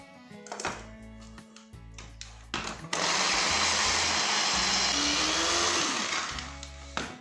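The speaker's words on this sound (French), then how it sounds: "on revient mixer tout de suite" Blender mixing hummus, starting with a few short pulsed bursts and thunks, then a loud continuous high-speed whirring run with a slight pitch drift, ending in brief pulses again.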